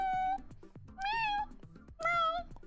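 A person imitates a cat, giving three drawn-out, rising-and-falling meows at roughly one-second intervals. The meows are close and clear, with quiet pauses between them.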